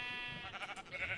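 A sheep in the Minecraft video game bleats once, a short wavering baa at fairly low volume with no voices over it.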